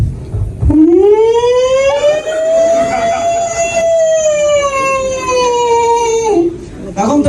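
A voice imitates an ambulance siren with one long, loud wail that rises, holds and slowly falls, close and alone after a short burst of noise.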